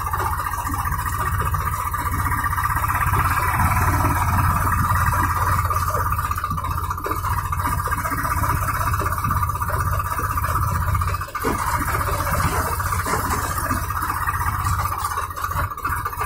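Tractor engine droning steadily while driving in fourth gear along a rough road under construction, a constant low rumble with rattling and occasional bumps throughout.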